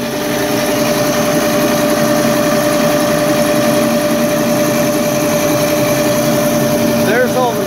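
A small scooter motor held at full throttle with a clamp roars steadily and loudly nearby, a sustained high-revving drone with a brief warble near the end as it begins to wind down.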